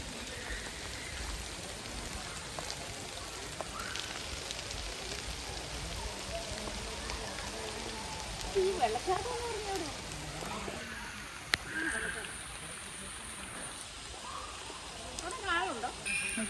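Steady rain falls at Kodanadu sanctuary near flowing dam water, a continuous soft hiss throughout with voices talking faintly beneath it.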